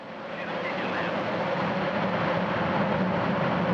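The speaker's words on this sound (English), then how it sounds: "We have engine start." Soyuz rocket engines igniting at the Progress MS-03 resupply launch, a steady broad roar that swells in the first half second and then holds loud and continuous throughout.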